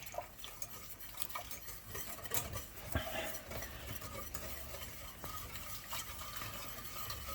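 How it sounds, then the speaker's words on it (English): A whisk stirs milk into a pastry cream mixture in a pot with quiet, busy scraping and clicking of metal against the pan, faint and steady throughout. "I'm going to slowly whisk in 2 cups of milk"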